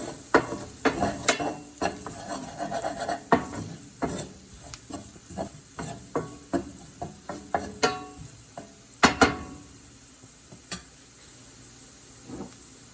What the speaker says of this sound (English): Now we add half teaspoon of red chili powder and mix it really well with the oil.